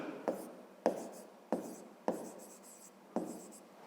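A pen writing by hand on paper, close and quiet, in five short bursts of scratchy strokes, each opening with a tap as the pen touches down, during a fifth-grade maths exercise.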